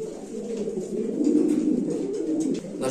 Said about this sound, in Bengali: কালো শৌখিন কবুতর ভাই, একবারে শৌখিন কবুতর